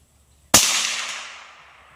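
A single sharp rifle shot fired at a metal target with a dent, cracking out loudly against a quiet background and leaving a long reverberant tail that fades over about a second and a half.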